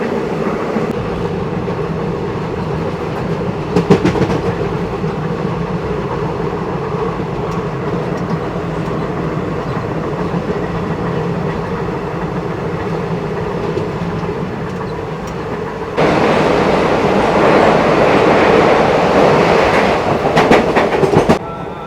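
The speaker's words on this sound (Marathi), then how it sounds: "आज रेल्वेने प्रवास करत आहे." Dadar Sawantwadi Tutari Express running, a loud continuous rumble of wheels and carriages with rhythmic clatter, growing brighter and louder toward the end as if near an open door, no talking.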